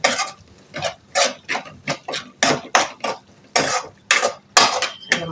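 Masala for garlic pepper rice is stirred and sautéed in a pan with about a dozen scraping, clinking strokes of a spoon against metal, loud and close, with short pauses between the bursts.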